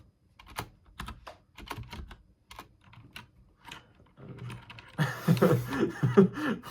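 Quick bursts of keyboard key clicks, close and fairly quiet, then a louder flurry of typing mixed with soft chuckling.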